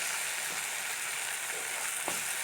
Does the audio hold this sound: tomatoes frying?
yes